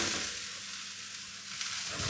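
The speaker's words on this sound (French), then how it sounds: "Sur un feu bien vif, on va tout de suite démarrer nos cèpes." Porcini mushrooms sizzling in oil in a pan over high heat, a continuous bright frying hiss that stays steady and close throughout.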